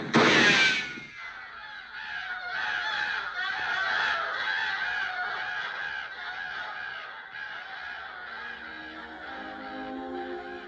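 Cartoon birds in the Bambi film give repeated honking, goose-like calls, loud at the start and then a steady chorus of overlapping calls throughout.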